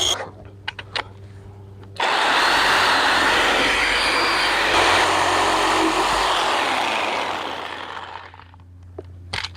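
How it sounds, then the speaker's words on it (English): A Porter Cable reciprocating saw cuts through spalted live oak, roaring loud and steady for several seconds after a quiet start, then tapering off near the end. "then I have to finish off with my Porter cable sawzall"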